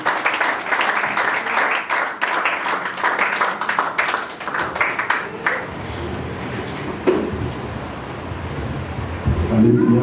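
A church congregation applauds and cheers the Lord during a French-language worship service. Dense, loud clapping fills the first half, then gives way to rumbling crowd noise and voices that swell again toward the end.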